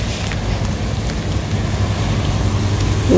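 Heavy rain pouring steadily during a storm, a dense, loud, continuous hiss with low rumbling, heard outdoors on a fishing trip with no voices.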